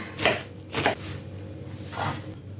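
Three separate crisp cutting strokes, two close together and a softer one after a pause, a knife shredding Chinese cabbage into thin strips on a board.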